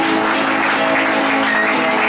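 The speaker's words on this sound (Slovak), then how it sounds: "Veľký potlesk, prosím." Audience applause after a helmet is presented as a gift at a memorial event in Horná Rimava, a steady dense clapping that fills the whole stretch, loud and close, with a faint voice underneath.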